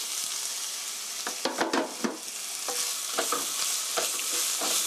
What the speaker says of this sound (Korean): 살짝 볶아주시고요.